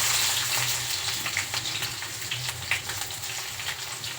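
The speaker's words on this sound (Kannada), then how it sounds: "ಸಾಸಿವೆ ಹಾಕ್ತಾಯಿದ್ದೀವಿ" Mustard seeds sizzling and crackling in hot oil on a large stove, a steady low frying hiss with scattered faint pops, fairly quiet and continuous throughout.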